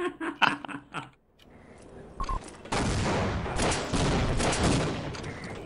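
Rapid gunfire bursts in the video game Team Fortress Classic, a sharp volley of shots early, a short lull, then a sustained loud barrage of overlapping fire and blasts filling the rest.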